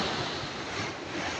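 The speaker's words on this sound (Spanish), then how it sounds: "Pues escuchen lo que es el mar." Sea waves at the port of Veracruz give a brief, steady broadband wash of surf mixed with wind rushing across the microphone.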